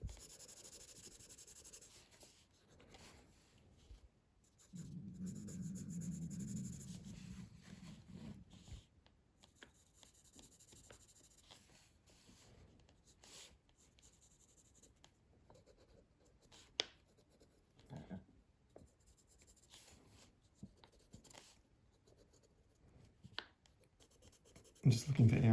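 A Blackwing pencil shading a skull sketch on paper, giving soft, continuous graphite scratching and rubbing strokes that swell in a denser burst of shading, heard close and quiet beneath intermittent talking.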